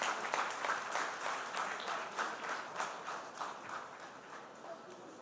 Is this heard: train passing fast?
no